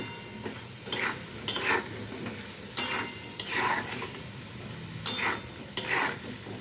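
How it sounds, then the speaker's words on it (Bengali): Hilsa fish is stirred with salt and turmeric in a pan. A utensil scrapes and sweeps in regular passes, about eight strokes, each a short rough swish against the pan over a faint background, close by and with no speech. "খুব ভালো করে নুন হলুদটা মিশিয়ে"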